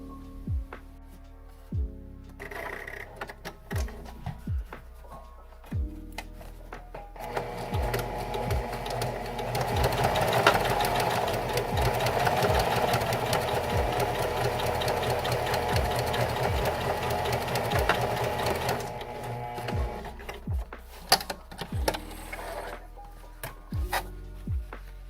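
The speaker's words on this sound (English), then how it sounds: "just fold it in half and sew this closed along here." A sewing machine stitches a seam closed on a folded fabric piece for a handmade mushroom hat, running in a steady, dense whir for about ten seconds in the middle, with shorter bursts and pauses of stopping and starting before and after.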